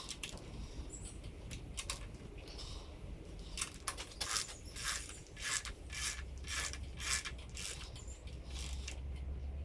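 A torque wrench ratchets as it tightens the cylinder head bolts on an MGB 18V engine, giving rapid close clicks in short repeated bursts over a quiet background.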